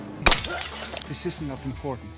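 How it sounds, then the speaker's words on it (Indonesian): A glass smashes over a man's head in a fight scene from the film Merantau, one sharp shattering crash with tinkling debris, followed by speech. "Luke dihantam menggunakan gelas kaca hingga kepalanya belepotan dengan darah"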